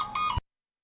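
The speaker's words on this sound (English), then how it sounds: "It was just a door alarm that didn't get properly shut off earlier." A door alarm that was left on gives a short electronic beep of about half a second, loud and close, then cuts to silence.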